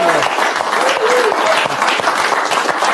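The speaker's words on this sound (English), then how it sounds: "Let's give John a big round of applause" Loud, close applause fills a live talk event for the whole three seconds, a thick wash of many clapping hands with voices faintly audible underneath.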